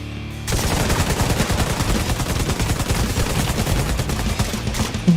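Sustained automatic fire from an M60 light machine gun in the Division 2 shooter game, a dense rapid stream of loud shots that begins abruptly after a half-second lull and keeps hammering without pause to the end.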